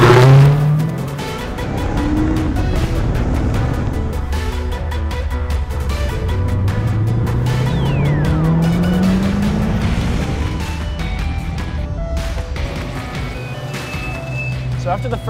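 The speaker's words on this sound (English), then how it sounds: "We're going to start by accelerating up to 60 miles an hour, and then braking in a moderate to aggressive fashion down to 10 miles an hour." Car on a brake break-in run for track day brakes: the engine note climbs steadily as the car accelerates, then winds back down, loud and continuous with no talking.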